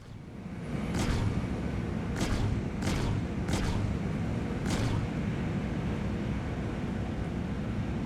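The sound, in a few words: distortion cannons firing in a video game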